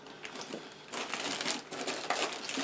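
Plastic parts of a 1:35 Trumpeter M983A2 HEMTT tractor and M870A1 trailer model kit are handled during unboxing, with crinkling bags and rustling sprues in close bursts, quieter at first and then a denser, continuous crackle.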